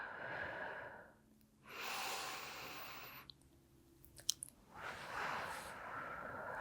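Slow, audible breaths during a hip mobility and pelvic strength exercise, with long, airy inhales and exhales alternating with quiet pauses and a few small clicks, close and fairly faint.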